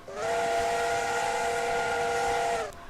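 Steam whistle of the 4472 Flying Scotsman locomotive in Train Simulator 2016, a single loud sustained chord-like blast lasting about two and a half seconds over a hissing background, then cutting off abruptly.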